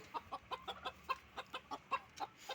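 A grey breeding rooster clucks about fifteen times in a quick, steady series of short, close calls, fairly quiet and alone.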